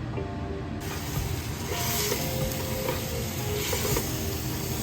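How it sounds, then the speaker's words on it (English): Three pounds of ground beef browning in a pan for lumpia filling, giving a steady, dense sizzle with occasional stirring scrapes, close and continuous throughout. "Still browning the meat off, trying to get it brown before we start to add our ingredients."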